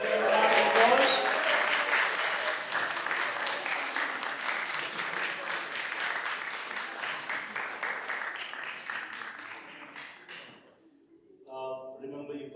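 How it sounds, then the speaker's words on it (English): Wedding guests at a Hindu wedding ceremony giving a round of applause, close dense clapping that gradually fades and stops, followed by a brief voice speaking. "Let's give a round of applause."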